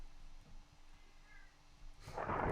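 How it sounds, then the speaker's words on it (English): A domestic cat meows loudly nearby near the end, a short burst rising over quiet background hum after a stretch of near silence. "I can hear my cat in the background."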